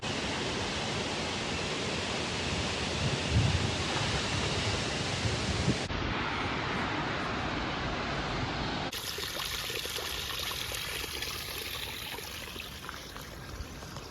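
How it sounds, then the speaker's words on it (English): Waterfall in Yosemite heard from close range, a steady, loud broadband roar of rushing and falling water that continues unbroken throughout with no voices. "I'm so close to the waterfall, I can sense it."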